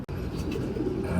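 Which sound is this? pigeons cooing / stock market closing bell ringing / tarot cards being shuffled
pigeons cooing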